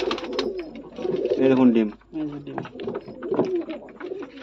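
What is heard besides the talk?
fancy pigeons cooing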